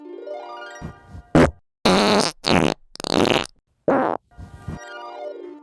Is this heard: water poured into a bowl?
no